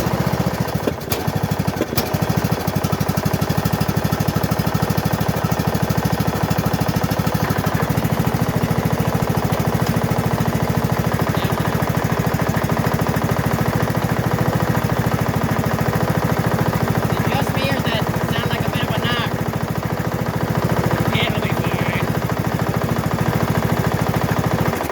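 A riding mower's engine runs steadily, loud and close, just after a repair to its clogged fuel line and replaced clamps, with a constant rumbling drone and a few brief rattles partway through.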